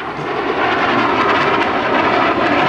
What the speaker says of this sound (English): now at present, the North American FJ Fury flying with the Super Hornet, the F-18